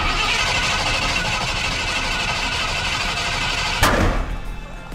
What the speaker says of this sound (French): il fait beaucoup plus de bruit que mon V8 quand j'ai coupé l'échappement